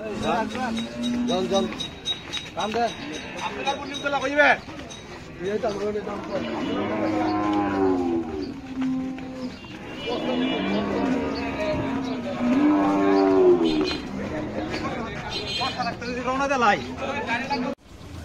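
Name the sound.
cattle mooing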